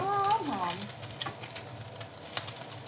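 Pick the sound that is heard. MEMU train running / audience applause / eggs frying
eggs frying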